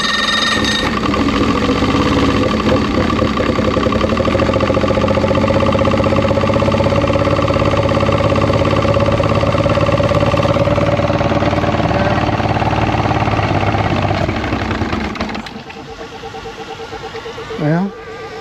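A 2006 Evinrude 90 E-TEC outboard engine drones loud and close with a steady, high, buzzing whine for about fifteen seconds. It then drops off sharply and leaves only a faint rumble and a brief rising tone.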